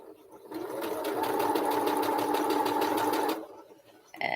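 A sewing machine stitches the corners of a fabric piece, a steady rapid whirring run of about three seconds close by, starting and stopping abruptly with quiet room sound around it.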